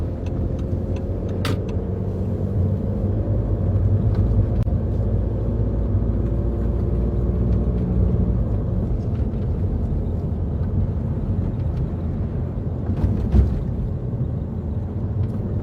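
A car rolls steadily through a roundabout with a constant low engine and road rumble from inside the cabin, the noise swelling slightly midway, and no talking.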